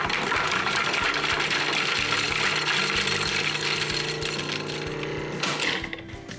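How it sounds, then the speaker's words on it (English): A food processor whirs loudly and continuously as it minces a garlic clove for oil-free hummus, a steady motor drone with blade rattle that eases off near the end. "we're gonna put this in the food processor and get it processed"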